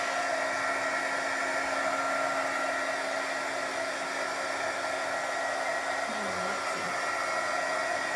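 A heat embossing craft tool blows steadily to dry chalk paint on a silver bowl, a continuous loud whooshing hum like a hair dryer running alone throughout.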